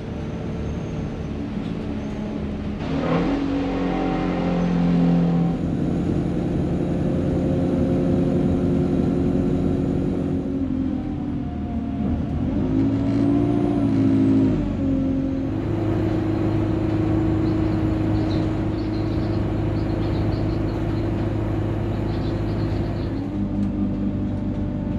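A bus drives through rainy northern Scotland, its steady engine drone and road rumble continuing throughout with a few shifts as it changes pace.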